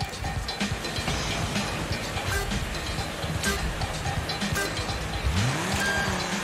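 A VW car drives hard in the off-road racing game Dirt 5, its engine snarling and shifting continuously while tires squeal and skid, loud and close with rising revs near the end.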